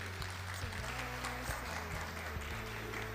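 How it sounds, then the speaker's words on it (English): Audience applause after a lecturer is introduced at a Buddhist talk held by a Fo Guang Shan temple, a steady clapping wash over a sustained low musical hum, with no talk over it. "So a round of applause for Venerable Rusin."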